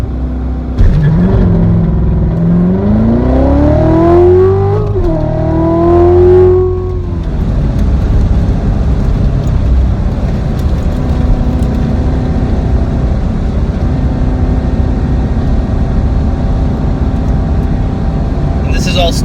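A standard production Chevrolet Corvette accelerates hard on a proving ground track, its engine note climbing through gears close and loud, then settling into a steady roaring cruise with wind and road noise.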